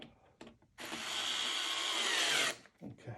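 A power driver tightens a screw on the chassis of a 1966 Fender Deluxe Reverb amp in one loud, close, steady burst of about two seconds, with brief handling clicks and small knocks before and after.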